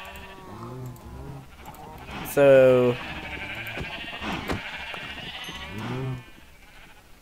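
Sheep in a Minecraft world bleat several times, one loud drawn-out bleat standing out among shorter ones, with someone talking over them.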